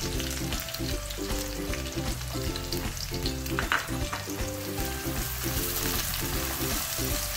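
Green chillies and tomatoes fry in a kadai for masala egg bhurji, a soft continuous sizzle with faint stirring, heard up close at low volume.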